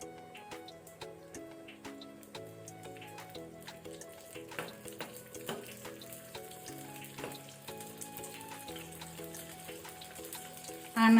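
Cooking oil and butter sizzling in a pan while making rajma masala, a fine continuous crackle and spatter heard close up under a quiet musical backing, with no talking.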